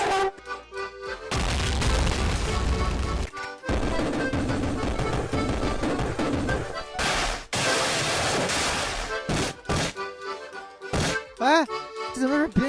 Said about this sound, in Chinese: 差点把别人家炸了